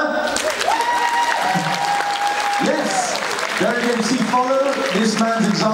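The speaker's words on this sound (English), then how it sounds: "Come on, put your hands together." An audience at a Supernatural fan convention in Chicago claps steadily in a dense continuous wash, with someone speaking loudly over the applause throughout.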